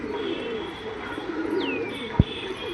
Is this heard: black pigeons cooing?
yes